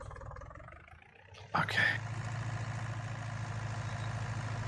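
A tractor engine idles steadily in Farming Simulator, a low continuous rumble that surges briefly and then settles, while someone talks over it.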